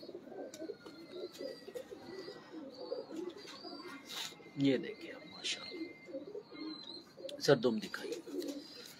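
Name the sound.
pigeons cooing, champion Sharmely pigeons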